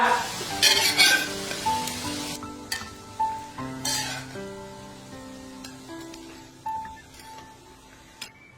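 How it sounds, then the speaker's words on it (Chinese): An egg sizzles and crackles in a hot pan, with bursts of spattering and soft clinks over faint sustained background tones. "把鸡蛋煎定型，煎涮出锅。"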